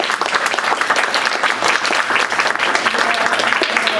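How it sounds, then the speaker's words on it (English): An audience at a tabletop gaming panel applauds loudly and steadily, a dense wash of clapping hands filling the room without a break for four seconds. "Please give a round of applause."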